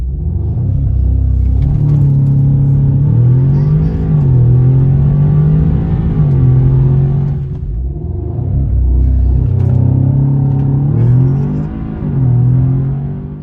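An Audi S3 MK7 engine roars loudly from close by during a launch from standstill, revving up and down in repeated surges with strong low rumble and rising pitch.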